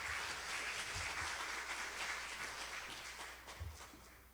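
Steady applause from a symposium audience, a dense wash of many hands clapping that holds through and fades slightly toward the end.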